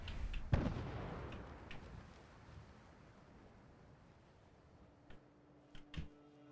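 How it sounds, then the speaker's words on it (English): A deep explosion booms in Fallout 4, loud and sudden at first, then a long rumbling decay, followed by a few smaller distant thuds and clicks. "I don't like when I hear random explosions"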